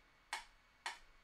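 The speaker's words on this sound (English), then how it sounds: "we're going to set this at 112. And each click is going to be for an 8th note" A metronome set to 112 beats per minute, giving two sharp, evenly spaced clicks close up against near silence.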